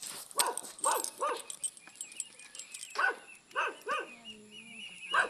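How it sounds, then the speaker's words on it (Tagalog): Several dogs bark and yelp in short bursts, some close and some farther off, with a quiet background. "Oh, ang daming aso."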